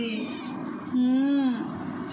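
A newborn kitten, born in a stairwell, gives a single thin, rising-and-falling meow lasting about half a second. The cry is close and fairly clear against a quiet indoor background.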